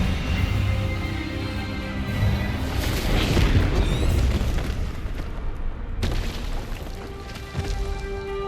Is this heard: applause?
no